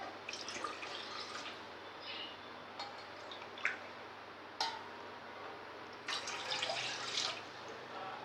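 Two tumblers of water trickle and drip into a cooking pot, with a few sharper splashes and clinks over a steady watery hiss, fairly quiet and close.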